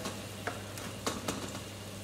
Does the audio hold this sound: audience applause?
no